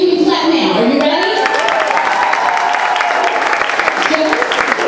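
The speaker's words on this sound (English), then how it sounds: "You can clap now." Audience clapping at a pet fashion event, building into a steady dense applause of many hands with voices and cheering mixed in.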